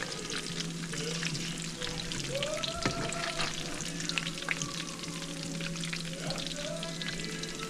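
Catfish pieces fry in hot grease in a skillet with a dense, continuous crackling sizzle, close and steady, with a few faint clinks and pops over it.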